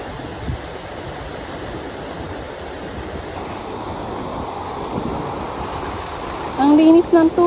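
Sea waves wash onto a white-sand beach in a steady, continuous rush, with wind buffeting the microphone throughout and a brief, louder burst of noise near the end.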